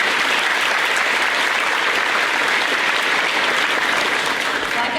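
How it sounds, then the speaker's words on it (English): A graduation crowd at an elementary school gives a fifth-grade student a round of applause: dense, loud, even clapping that holds steady for the whole stretch. "So let's give him another round of applause."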